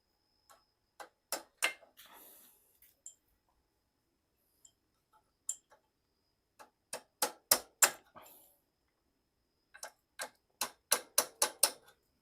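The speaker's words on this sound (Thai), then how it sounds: "เคาะเพื่อให้มันกระเทือน" Light metal taps strike a rusted front fork with large 27 mm stanchions on a Chaly motorcycle. The taps come in short, uneven clusters of sharp clicks separated by pauses, and they are quiet and close.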